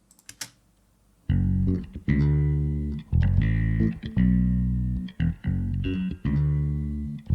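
A distorted, gritty bass layered over a clean copy of the real bass plays back in a studio mix: sustained, loud bass notes in phrases separated by short gaps, after a brief quiet start.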